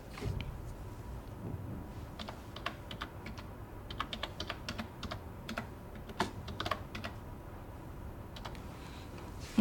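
Typing on a computer keyboard, a steady run of close, crisp key clicks with irregular rhythm over a low background hum, with no voices.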